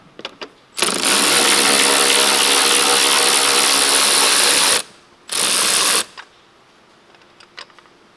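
Ratchet wrench turning a 10 mm battery hold-down bolt on a 2019 Lexus RX350: a loud, continuous rapid clicking for about four seconds, a brief pause, then a shorter second burst, ending with a few faint clicks.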